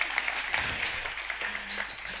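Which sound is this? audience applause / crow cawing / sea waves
audience applause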